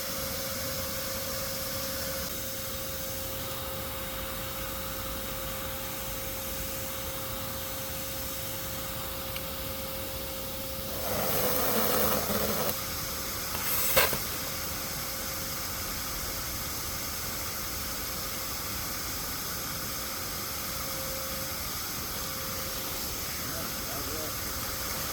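A vacuum sucks up yellow jacket wasps from a nest with a steady droning hiss and hum that runs throughout, broken by a brief louder rushing surge near the middle.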